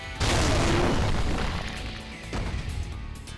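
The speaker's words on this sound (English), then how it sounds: "Explosion!" A loud explosion in the zombie action game Yakuza Dead Souls bursts in with a heavy boom, then rumbles and crackles on, with a second surge of blast debris near the end.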